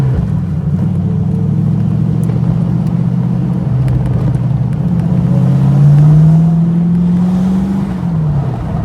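A TVR Chimaera sports car engine drones steadily from inside the cabin while driving, its deep tone climbing and falling as the car pulls out of a tight junction, loud and continuous with no talking.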